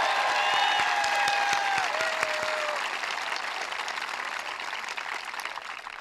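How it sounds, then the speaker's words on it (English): Audience applause fills a school recognition ceremony, steady dense clapping from a large crowd that gradually thins and softens, with faint cheers and whistles rising over it early on. "let's give another round of applause for Michael"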